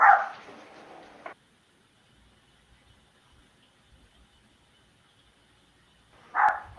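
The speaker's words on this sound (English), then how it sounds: "Got the angry dog barking at the door right now." Angry dog barking at a door, two loud bursts of barks, one at the start and another near the end, with a long quiet gap between them.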